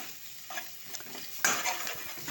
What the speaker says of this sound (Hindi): अब इसको अच्छे से भून लेंगे तड़के को।